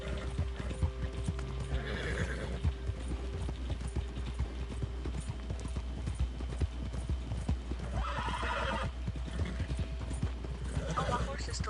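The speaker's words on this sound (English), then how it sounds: "Oh, my horse is still following up here." Horse hooves clip-clop steadily in an open-world video game, a continuous close rhythmic trot with occasional neighs, under a person talking.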